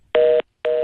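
A telephone line cutting off during a phone interview gives two loud, clean electronic beeps, each lasting about a quarter second with a short gap between them.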